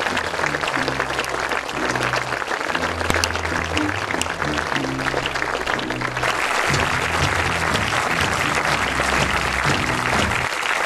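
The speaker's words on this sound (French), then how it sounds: "Je vous demande vraiment d'applaudir, d'accueillir avec chaleur, avec beaucoup d'enthousiasme, Madame la Présidente Joëlle Mitquet." Sustained, loud applause from a party congress audience in Liège welcoming the party president, dense clapping continuing steadily throughout with music-like tones underneath.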